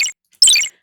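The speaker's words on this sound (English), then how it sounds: "I just dragged the SFX magic, which should sound like this." Magic sound effect in a 2D dodge video game: a bright, high, sparkling chime tone, sounded twice in quick succession, loud and clean with silence between the two bursts.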